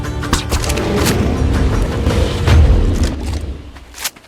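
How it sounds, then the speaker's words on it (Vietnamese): Gunfire in the survival video game ARK: loud, close bangs and booming impacts repeating irregularly over several seconds against a rumbling game background. "Đợi súng bắn nó phát thì nó cũng gục âm xuống đất."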